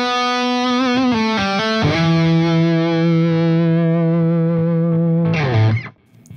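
A B.C. Rich Mockingbird Legacy ST electric guitar, distortion at about half, plays a few quick notes, then holds a long sustained note that rings with gritty overdrive before sliding down and cutting off.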